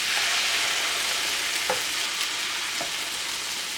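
Eggplant omelette mixture for tortang talong sizzles in a very hot waffle maker, a steady close frying hiss with a couple of soft clicks as it settles, no talking.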